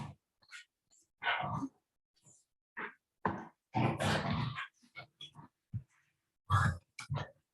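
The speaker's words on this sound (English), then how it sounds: "if you hear something with my dog here that is making some noise" A dog makes scattered grunting, growling noises in short irregular bursts with quiet gaps between, fairly close but not loud, with no talk over it.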